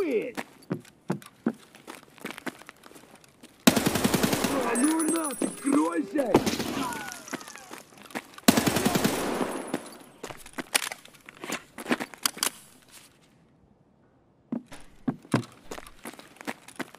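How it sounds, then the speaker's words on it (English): Gunfire in the Escape From Tarkov shooter game, with two loud sustained bursts of shots and crashing impacts among scattered footsteps and clicks, and a voice talking in between. "I'm getting sniped from behind."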